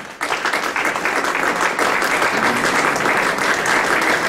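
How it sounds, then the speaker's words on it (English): A hall audience at an interfaith gathering on gun violence at a Muslim education center breaks into loud, sustained applause for three brothers, a dense wash of clapping that continues steadily to the end. "Give these brothers a round of applause."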